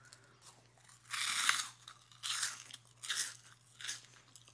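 Crisp crunching bites and chewing of a Japanese cheesy puff snack, close-up and intimate, with four distinct crunchy bursts in a steady rhythm and no talking.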